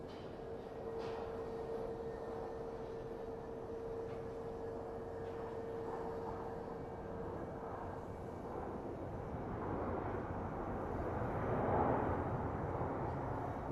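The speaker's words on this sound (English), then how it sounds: "So we have an A321 coming in from Minneapolis." An Airbus A321 airliner arriving from Minneapolis at Phoenix Sky Harbor airport, a low distant rumble with a faint steady whine that slowly swells toward the end.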